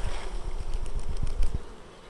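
Honey bees hum in a low, steady buzz around a Flow Hive being worked on, with soft thumps and rustling close by and no one speaking.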